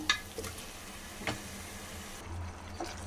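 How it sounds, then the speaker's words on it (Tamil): Mutton is added to spiced masala in a pan for mutton kuzhambu: a quiet, steady sizzle with a few soft stirring knocks and scrapes at irregular intervals. "இப்போ மட்டன் போட்டலாம்"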